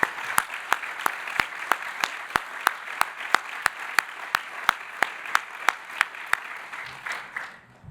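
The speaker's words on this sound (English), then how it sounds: "Can we give all those seen here and unseen just an incredible round of applause?" An audience at a university address breaks into steady applause, a dense wash of clapping with sharp regular claps standing out, continuing at moderate level before thinning near the end.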